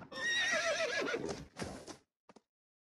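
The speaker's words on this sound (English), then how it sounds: "Then they heard horses across the river." Horses neigh across a river at night in a short burst of loud whinnying, with faint hoof clip-clop, then near silence apart from a couple of brief thumps.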